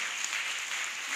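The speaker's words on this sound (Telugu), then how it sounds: "అందరూ గట్టిగా చప్పట్లు కొట్టి దేవుని మహిమపరుద్దాం" A church congregation at a Christmas vigil Mass claps loudly and continuously in a dense, even burst of applause.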